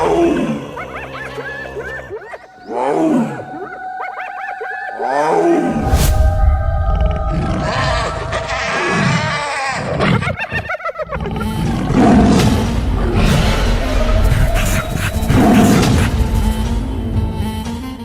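Animated tiger and hyena clash in a cartoon fight, with loud growling roars and crashing impacts rising and falling over several seconds, intense and close throughout.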